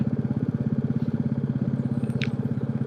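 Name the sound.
motorcycle engine braking on a rainy mountain road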